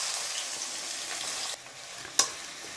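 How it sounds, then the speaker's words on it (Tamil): Chopped onions frying in a kadai with oil, cloves, cinnamon and cardamom, giving a steady close sizzle throughout with one brief sharp clink near the end. "இப்போ வந்து நல்லா வெங்காயம் ஓரளவுக்கு நல்லா வதக்கிடலாம்."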